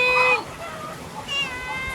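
A cat meows twice up close, a clear drawn-out cry followed after a pause by a second, slightly softer one, with faint rural background behind it.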